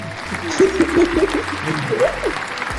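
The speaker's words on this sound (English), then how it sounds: "So clap for yourselves." Scattered clapping from a small group, moderately loud and fairly brief, with voices and harmonic chatter mixed in over it.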